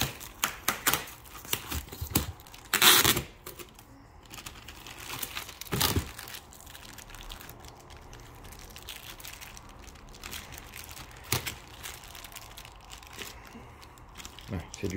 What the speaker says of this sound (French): c'est du sacré scotch